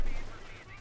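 Machine-gun fire in Company of Heroes 2, a World War II strategy game, a dense brief rattle of gunfire under a busy battlefield mix, with a commentator's voice present.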